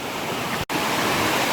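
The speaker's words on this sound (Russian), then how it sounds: "Поднялся еще выше водопада, тут такие вот каскадики, маленькие водопадики." Small cascading waterfalls in the Crimean mountains pour steadily in a dense, broadband rush, loud and close, with a brief dropout partway through and no voices.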